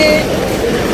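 A loud, close train rumbles at a railway station with a dense mechanical roar for a brief moment, a faint high tone ringing above it.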